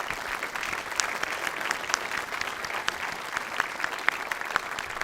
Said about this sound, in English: a round of applause for Steve.